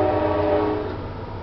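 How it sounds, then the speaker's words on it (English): A train passes in the video game Resident Evil 4, a loud, steady rumble with a droning horn-like tone that slowly fades over a second and a half. "Train's making an appearance here. Special guest, the train!"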